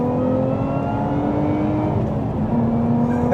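A Lotus Emira V6 sports car drives on a very wet road, its engine a steady droning hum with whirring tones under constant road and spray noise.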